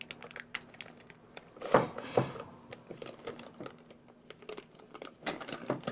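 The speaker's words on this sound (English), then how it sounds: "There's a lot of typing going on here" Keys clatter on a computer keyboard in short irregular bursts at moderate distance, with a few louder clustered strikes partway through and no talking.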